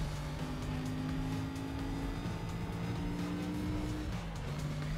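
Supercharged V8 engine of a car in Need for Speed: Most Wanted, a steady, loud drone held at cruising speed with slight pitch shifts and no talk over it.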